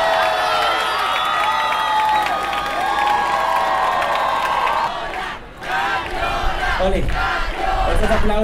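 A large crowd at a Latin drag show claps, cheers and whoops loudly and continuously, with shouts ringing over the applause and a voice calling out near the end.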